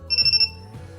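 A battery spot welder gives four quick, high electronic beeps close by to signal its power level setting, followed by a low steady hum.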